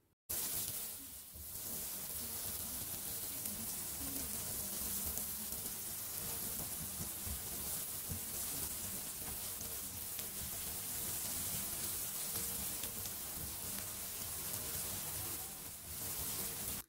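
Onions frying and being stirred in a pan for caramelizing, a steady hissing sizzle like light rain that runs unbroken for the whole stretch, close and fairly soft.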